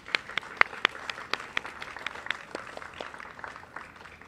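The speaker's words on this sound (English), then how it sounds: "let's have a round of applause for Uncle Imai" An outdoor audience claps in applause at an art installation unveiling on a city mall, a steady burst of many hands close by with a few sharp individual claps standing out.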